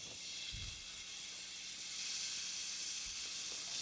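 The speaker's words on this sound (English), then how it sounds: "I'm going to go ahead and add that to our olive oil, and we're going to start browning" Ground veal, beef and Italian sweet sausage browning in olive oil in a pan, a faint, even sizzling hiss with a couple of soft low bumps.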